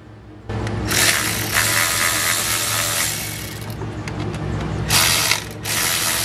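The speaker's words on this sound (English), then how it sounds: "Now, again, I have a power ratchet." A power ratchet spins coil pack bolts loose on the 5.7L HEMI V8 of a 2017 Dodge Charger R/T, giving loud, steady whirring bursts with brief pauses between runs and no talking.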